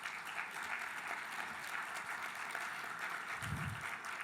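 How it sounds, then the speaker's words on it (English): An audience at a plenary panel on building community claps for a speaker's team, a sustained, fairly distant patter of many hands at a moderate level, with no talk over it. "I think you and your team need to be applauded"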